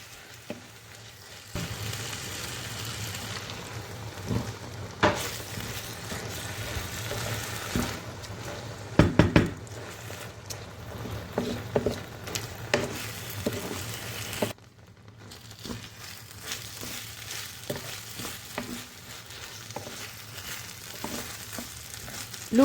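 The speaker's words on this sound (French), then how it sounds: "je fais cuire le riz jusqu'à qu'il absorbe l'eau" Rice cooking in water in a pan, giving a steady soft bubbling simmer with light crackle and a few brief clinks, moderately close and alone.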